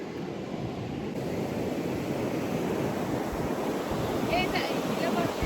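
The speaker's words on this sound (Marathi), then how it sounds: "मोठ्या लाटा येत आहेत ना" Continuous roar of sea waves crashing on a beach at Ganpatipule, Konkan, loud and close, with wind rumbling across the microphone.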